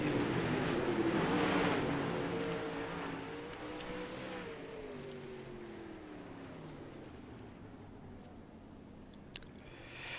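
Dirt late model race cars roar past on the back straightaway at Lernerville Speedway, a loud engine drone that peaks early and then fades steadily as the pack pulls away, with no talking over it.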